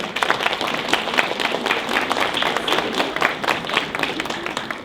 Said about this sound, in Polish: wielkie brawa dla Pana Wójta i gminy